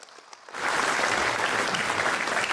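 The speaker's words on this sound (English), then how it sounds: "Let us give everybody a huge round of applause." Audience applause at a foundation stone laying ceremony for a regional campus, beginning abruptly after a quiet moment and swelling into sustained, dense clapping that fills the hall.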